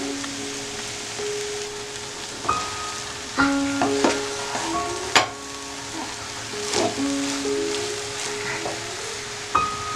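Egg and chunks of tapioca cook slowly in a pan on low flame with a steady soft sizzle, broken by occasional clinks of a utensil against the pan.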